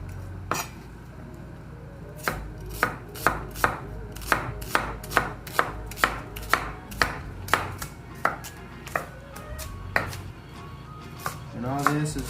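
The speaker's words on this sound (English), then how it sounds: "You can cut them in slices, and then you can cut it up a little bit more." A knife chops onion for carbonara on a board with about fifteen crisp, evenly spaced strikes, quiet between cuts, ending with a brief clatter.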